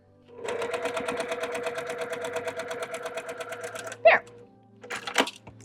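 A sewing machine stitches a seam on a Delectable Mountains quilt block, a steady rapid run of mechanical stitches for several seconds before stopping, followed by a brief knock and a short spoken word.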